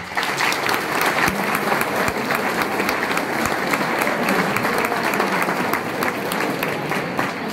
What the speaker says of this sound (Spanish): vamos a dar un aplauso por haber hecho este favor